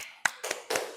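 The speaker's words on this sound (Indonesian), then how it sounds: "Oke, tepuk tangan." A small classroom group claps hands in a few loose, separate bursts during a religious education lesson, brief and moderately loud, with no talking.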